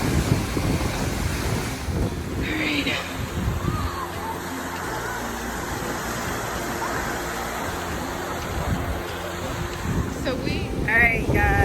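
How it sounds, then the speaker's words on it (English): Ocean surf washing steadily onto the beach at Playa del Carmen, Mexico, a constant broadband roar mixed with wind buffeting the microphone, with brief voices near the start and end. "we are at Playa del Carmen Beach"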